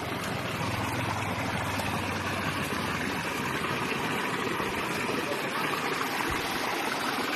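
Strong floodwater surges through a rice field after a landslide, a dense, steady rushing roar that fills the whole stretch at close range, with a low rumble fading partway through.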